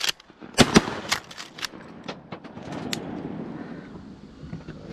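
Shotgun blasts during a Wisconsin youth duck hunt, two sharp, loud shots close together near the start, followed by fainter outdoor noise and a few smaller clicks and pops.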